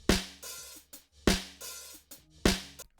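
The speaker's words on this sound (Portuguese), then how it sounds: "E esse é só o som do microfone de baixo da caixa." Three snare drum hits from a microphone under the drum only, with a hissy, buzzy rattle and a dull, papery body, a few quieter ghost taps in between.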